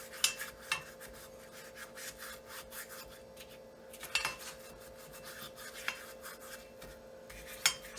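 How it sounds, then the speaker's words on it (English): Oil is rubbed and spread over a cast iron pan for cornbread, soft scraping and rubbing strokes with occasional sharp metallic clinks, close and fairly quiet, no talking. "make sure that oil is spread around and all the surfaces are covered."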